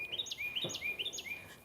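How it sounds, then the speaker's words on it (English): Wild birds chirp outdoors at sunrise during a morning walk, giving quick rising tweets in a repeated pattern that sound faint and somewhat distant. "But the birds are out this morning."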